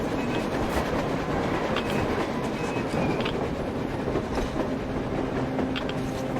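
A train rolls past on the surface in the video game Metro Exodus, a steady rumbling clatter of rail cars with faint wheel squeal, continuous and fairly close throughout.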